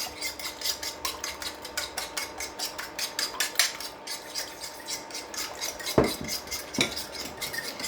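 French toast batter with cinnamon being stirred in a bowl, a utensil scraping and clinking steadily against the dish at close range, with a couple of sharper knocks near the end.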